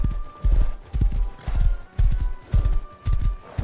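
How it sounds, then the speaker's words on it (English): A horse gallops in the Rust survival video game, loud and close, its hooves pounding in repeated bursts of clip-clop with a faint whinny, and no talking over it. "A horse, a horse, a horse,"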